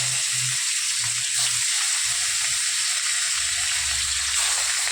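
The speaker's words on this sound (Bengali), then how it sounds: "তো তেল গরম হয়ে গেছে দেখো মাছ ভাজা" Fish frying in hot oil in a home kitchen, a steady bright sizzle running throughout with faint low clatter of utensils underneath, close and even in loudness.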